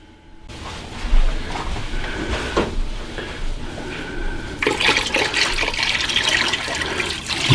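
Brine pours into a bucket over a turkey, a continuous loud splashing rush of liquid that grows heavier toward the end.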